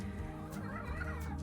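Chickens clucking and gobbling in a chicken coop in a permaculture food forest, a continuous close flock murmur with overlapping calls and no talking.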